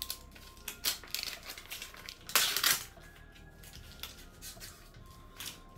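Protective paper is peeled and crinkled off an Apple AirPods Max case: soft close rustling and tearing crackles in irregular bursts, one louder ripping stretch in the middle, quiet overall.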